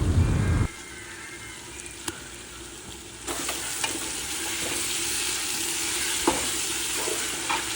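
Mutton rubbed with masala bubbles and sizzles steadily in a pot, close and continuous, with occasional clinks and scrapes as it is stirred and no talking.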